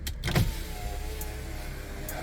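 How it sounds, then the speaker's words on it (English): A car's electric power window motor whirs steadily as the glass lowers, a near, even hum lasting a couple of seconds inside the vehicle, with a faint click at the start and no speech. "Let down the window."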